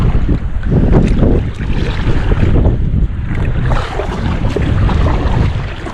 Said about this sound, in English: We're coming up on our first section of rapids here